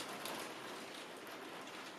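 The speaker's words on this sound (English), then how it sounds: "the rain is really just started coming down" Rain coming down outdoors, a steady soft hiss of drops that stays faint and even throughout, with no voices.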